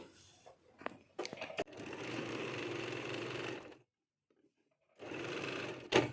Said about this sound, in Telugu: మీరు ఫస్ట్ ఈ చివరిని ఒక స్టిచ్ వేసుకోండి